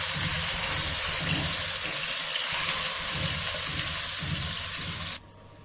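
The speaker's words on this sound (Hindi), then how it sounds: "जैसे ही ऑयल गर्म होता है तो उसमें हम ये सारा कीमा ऐड कर देंगे और 1 से 2 मिनट तक इसको अच्छे से हम भून लेंगे।" Chicken mince fries in hot oil in a pan, giving a steady, fairly loud sizzle that runs unbroken before cutting off near the end.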